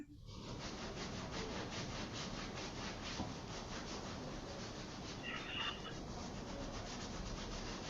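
A hand rubbing briskly along a forearm during a hatha yoga class, a steady close, continuous friction sound that runs unbroken for several seconds with no talk.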